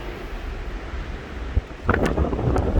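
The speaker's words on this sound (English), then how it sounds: "And there's the wind." Steady wind buffets the microphone on a high balcony of a beach condo at Treasure Island Resort in Panama City Beach, Florida, with surf faintly below and a stronger gust rising toward the end.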